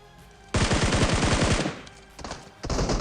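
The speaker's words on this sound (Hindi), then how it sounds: "वैसे मुझे कवर फायर देता है" Automatic gunfire rattles in the PUBG Mobile battle royale game: a loud, close burst of rapid shots lasting about a second, then two shorter bursts follow.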